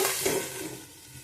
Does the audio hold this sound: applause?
no